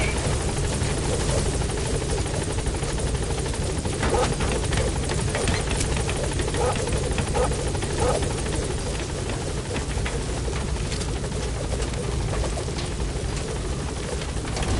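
A helicopter in the video game Metal Gear Solid 5 churns with loud, continuous rotor thudding and broad engine roar, holding steady and close for the whole stretch without speech.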